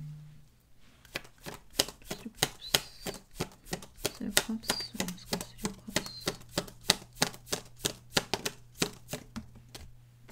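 Tarot cards are handled and drawn in a long run of crisp, close flicks and taps, steady and fairly quick, with a faint hum underneath and a brief soft voice at the start.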